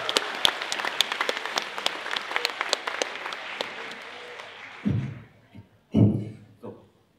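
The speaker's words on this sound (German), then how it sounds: "Kräftigen Applaus für Vegeta und Bulma von Coscore" Audience applause for Vegeta and Bulma cosplayers at a cosplay contest, a crisp clatter of clapping that thins out after several seconds and gives way to a few louder thumps and a voice.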